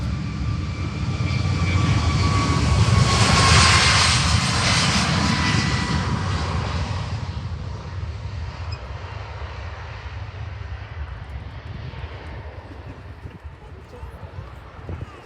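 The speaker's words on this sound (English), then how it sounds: "They've just been given clear to take off this with a normal Airbus display, which is dramatic." An Airbus airliner taking off during a flying display at the Farnborough Airshow 2024, a broad, steady engine roar that swells to a peak early on and then gradually fades as it climbs away, with crowd chatter underneath.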